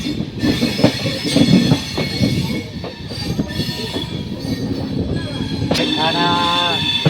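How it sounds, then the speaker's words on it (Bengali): The Jammu Tawi Express rolls into Lucknow Junction with rumbling wheels and clattering coaches, then a high squeal of wheels on rails near the end. Voices can be heard in the background. "ট্রেন ঢুকছে লখনৌ জংশনে, যেহেতু ক্রসিং হচ্ছে তাই বন্দে ভারত এখন দাঁড়িয়ে রয়েছে একদম আমার সামনে।"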